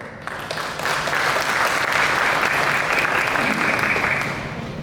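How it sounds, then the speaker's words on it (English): An audience claps together in sustained applause, loud and even, swelling slightly before tapering off near the end. "A round of applause for yourselves."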